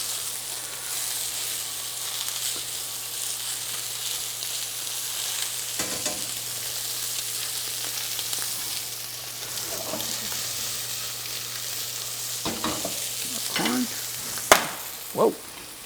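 Pan-seared scallops sizzle steadily in a hot pan on a ZLINE range, a loud continuous frying hiss broken near the end by several sharp clanks and scrapes as they are flipped.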